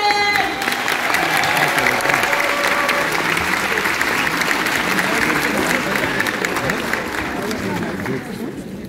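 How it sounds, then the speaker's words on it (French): Thunderous audience applause for a filmmaker at a French screening event, a dense, sustained wash of many hands clapping loudly throughout, tapering slightly toward the end. "un tonnerre d'applaudissements pour Yohan T. London"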